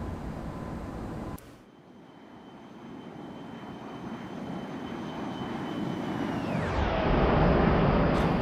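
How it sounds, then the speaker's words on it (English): Jet engines of a Boeing 737-800 roar in a simulated flyby in the Zibo flight simulator, a steady whine and rumble that cuts briefly, then builds louder with a falling tone as the aircraft passes. "Let's make a flyby."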